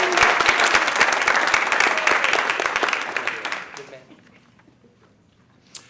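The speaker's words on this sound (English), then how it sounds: "let's give him a big round of applause" Dense, sustained applause from a crowd, loud at first and then fading out after about four seconds into near quiet, with one brief sharp sound at the end.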